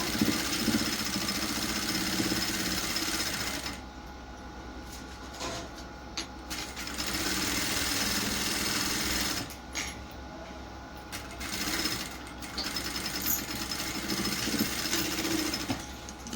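A sewing machine runs in steady bursts while stitching across the end of a blouse seam, a close mechanical hum with brief pauses between runs.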